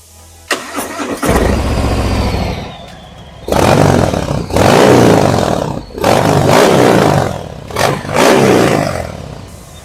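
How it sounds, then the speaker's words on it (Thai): A 2020 Harley-Davidson Softail FXDR 114 with a roughly 1,800 cc V-twin fires up with a sharp bang, idles with a deep rumble, then roars through several loud revs in separate bursts, close and without talk. "เดี๋ยวมาฟังเสียงเครื่องยนต์กันนิดนึงนะครับ"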